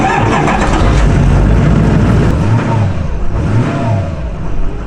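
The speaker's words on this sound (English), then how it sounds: "I like to start up the bus about once a week just to make sure everything is still going, still running" A school bus being converted into a skoolie starts up and revs hard, a loud, close, rumbling engine roar that stays heavy throughout and eases slightly toward the end, with no talking.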